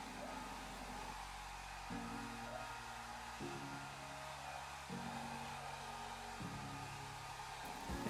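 A hot air rework station blows a steady, quiet hiss of air while heating solder on a small circuit board, with faint low tones shifting in the background and no speech.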